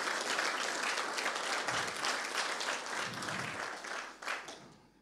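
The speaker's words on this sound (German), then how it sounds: "Oder lassen wir es erstmal klatschen?" An audience claps at the end of a talk on MikroTik equipment in amateur radio, a dense, sustained round of applause that swells and then fades out near the end.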